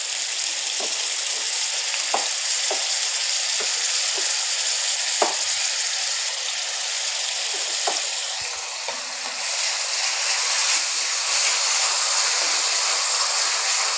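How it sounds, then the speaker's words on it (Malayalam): Garlic ginger paste fries steadily in hot oil for a chicken curry, giving a constant loud sizzle with occasional spatters and stirring clicks. "ഇതിൽ വെളുത്തുള്ളി ഇഞ്ചി പേസ്റ്റ് ഇടണം."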